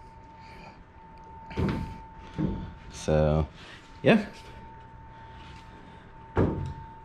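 A Factory Five 35 Hot Rod truck door is opened and shut several times, giving sharp thuds and latch clunks spaced a second or two apart, close by, with a brief word spoken.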